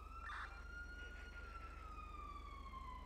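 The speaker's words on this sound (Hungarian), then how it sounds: "Milyen a nagy szirénázás?" Police siren inside a video game about sheriff patrol life, a steady wailing tone that sweeps slowly downward, moderately loud over a constant low hum.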